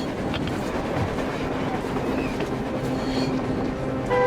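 A train rumbles steadily along in the Metro Exodus video game, a continuous close, noisy roar of wheels and carriages with faint rattling and no clear breaks.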